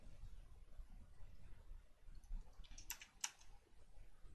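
Typing on a computer keyboard, a short burst of a few quick clicks at moderate distance over a faint background hiss, with no talking.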